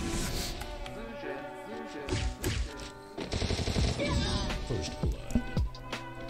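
Rapid gunfire from a shooter video game during a one-on-one match, sharp bursts and single shots over a constant background music-like hum, with a player's voice talking in between.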